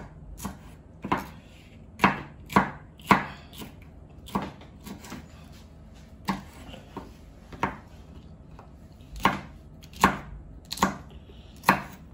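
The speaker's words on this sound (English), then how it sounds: "Okay, I'm done chopping the habanero pepper." A knife chops through a habanero pepper on a cutting board in a kitchen, giving a dozen or so sharp, fairly close knocks in an irregular rough-chop rhythm with quiet gaps between.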